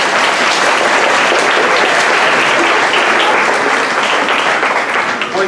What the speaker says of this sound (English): Can you give Ms. Wonderly a round of applause?